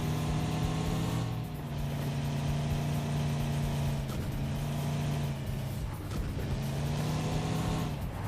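Idling vehicle engine in a battle royale shooter game, a steady low mid-pitched rumble holding throughout with slight revving swells and no talk over it.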